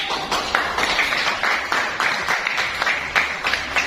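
Applause from a group of students in a classroom during a teaching session, brisk, lively clapping with many hands at close range, sustained evenly for several seconds.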